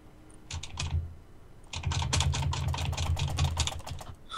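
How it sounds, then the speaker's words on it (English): Rapid, repeated clacking on a computer keyboard spacebar during a Minecraft DeathRun game, a short burst followed by a longer, denser run of fast close presses. "Just spam spacebar."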